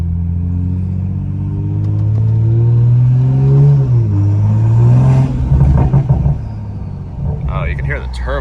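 A Toyota car accelerating on a residential road, its turbocharged exhaust rumbling deep and loud. The engine note climbs, dips briefly, then surges again, while people talk inside the car throughout.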